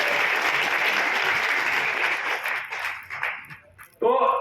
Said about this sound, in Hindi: तो ताली बनती है ना।